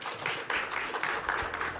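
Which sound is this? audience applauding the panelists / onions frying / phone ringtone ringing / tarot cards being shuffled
audience applauding the panelists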